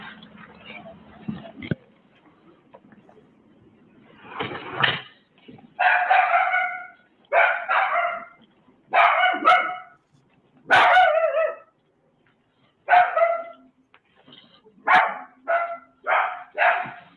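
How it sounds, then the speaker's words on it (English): A dog barks repeatedly in body cam footage from a home's garage area, loud and fairly close, in clustered bursts with short pauses across the stretch, after some faint low background noise at the start. "Jessica Wilson, don't you hate it when you hear a trauma dog in these videos?"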